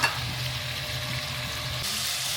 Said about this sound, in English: Kinpira slicing, which will saute down until they're really nice and soft and cooked through